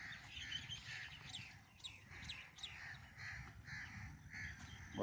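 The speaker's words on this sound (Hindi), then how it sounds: "आप देख सकते हैं, सुन सकते हैं कौवे कैसे बोल रहे हैं" Several crows caw repeatedly, fairly close, beside a canal, their harsh calls overlapping in an uneven rhythm over a steady low outdoor rumble.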